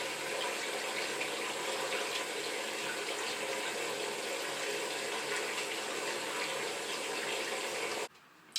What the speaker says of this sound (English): First, you want to make sure you wash your hands.